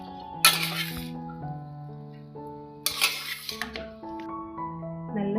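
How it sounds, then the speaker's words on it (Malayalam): A spoon stirring garlic mushroom rice in a metal pot, with two bright scraping clinks against the rim and softer stirring sounds between them, close and otherwise quiet. "നന്നായിട്ട് ഒന്ന് ഇളക്കി യോജിപ്പിക്കാം."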